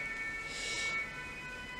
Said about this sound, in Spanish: perdona por la sirena.